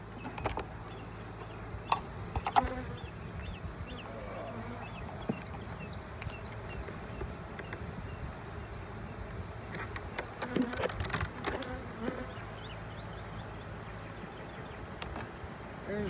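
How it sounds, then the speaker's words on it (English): Steady, dense buzzing of many honey bees in a hive close by, with occasional sharper clicks and knocks, and no voices. "Still quite a few bees in there"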